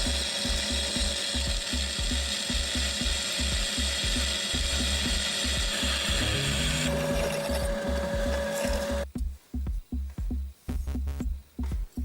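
A power drill whirs steadily with rapid rattling pulses for about nine seconds while drilling a hole in a metal key blank, then stops, leaving a few scattered clicks and knocks.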